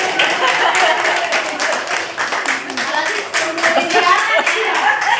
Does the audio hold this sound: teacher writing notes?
no